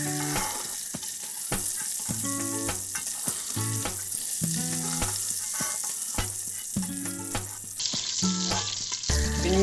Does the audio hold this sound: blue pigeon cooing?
no